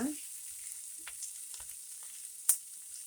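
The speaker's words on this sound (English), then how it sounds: "I'm just kind of tossing this just a little to get the bacon drippings all over." Brussels sprouts and other vegetables being tossed in bacon drippings in a hot skillet give a faint, steady sizzle with a few soft clicks of stirring and one sharper tap.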